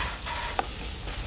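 Food being stir-fried in a coated frying pan while cooking a Jeju dish, a steady soft sizzle with a couple of brief scraping clicks from stirring, no talking.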